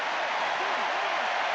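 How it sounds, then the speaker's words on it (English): Applause and cheering from the crowd and teammates at a Georgian rugby match, a dense, steady roar of clapping with voices mixed in across the whole moment. "There's the applause from the crowd and from his teammates"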